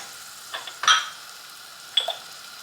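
A spoon scrapes and stirs through tomato sauce in a pan just after a teaspoon of sugar goes in for stuffed shells: two or three short, soft strokes over a faint steady background.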